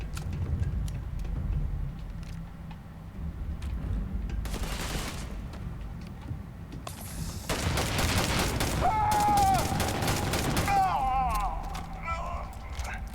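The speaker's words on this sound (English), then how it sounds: "I have to keep using my rifle" Rifle gunfire in Starfield, sporadic shots at first, then sustained loud bursts of rapid fire over a rumbling game backdrop, with a voice talking intermittently.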